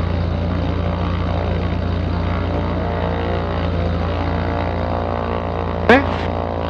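A Zenith STOL CH 750 light sport utility aircraft runs up its engine on the ground: a loud, steady propeller-engine drone heard from close by, with a brief sharp chirp near the end and no speech over it.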